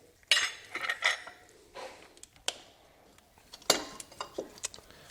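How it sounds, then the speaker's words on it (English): A metal wrench works loose the idler pulley bolt beside the alternator on a 2006 Chevy Impala 3.5 L engine, giving a series of sharp, close metallic clinks and taps with quiet pauses between them. "I've got my wrench on there, and I'm simply going to loosen up the bolt"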